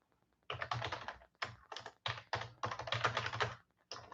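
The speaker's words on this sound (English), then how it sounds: "Sorry, I can't type." Bursts of rapid typing on a computer keyboard, close clicking keystrokes in several short runs separated by brief pauses, with no talk.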